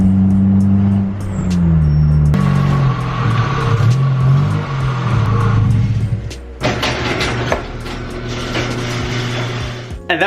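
A Honda EG hatchback fitted with a welded screamer pipe exhaust revs loudly up and down, the engine note rising and falling in rough surges, close by and with no one talking.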